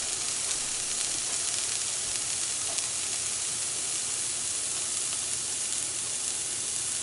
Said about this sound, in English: add our tablespoon of chopped shallots, and we're going to let them cook for just a minute in a dry pan to release the aromatics